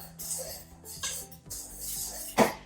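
Sugar is stirred into classic fruit scone mixture in a bowl, giving a few scattered scrapes and clinks of a utensil, ending with one sharper knock.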